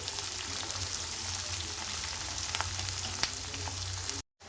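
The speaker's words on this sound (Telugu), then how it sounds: "ఆనియన్ అంతా బ్రౌన్ కలర్ వచ్చే వరకు ఫ్రై చేసుకోవాలి" Onions fry in oil in a pan until brown for a sprouts curry, giving a continuous dense crackle and sizzle at moderate level with a few faint stirring knocks. The sound cuts out briefly near the end.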